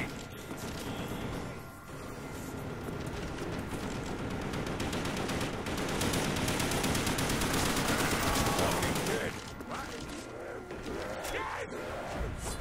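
Sustained automatic gunfire in Call of Duty Nazi Zombies on the Ascension map, loud and continuous for about twelve seconds with dense bursts layered over game noise.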